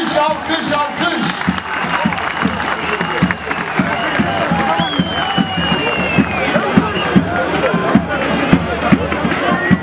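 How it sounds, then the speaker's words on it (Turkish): Applause at a Turkish oil wrestling match, a crowd clapping steadily with rhythmic claps under a loud announcer's voice and general crowd babble. "alkış yapılır. Alkış, alkış, alkış."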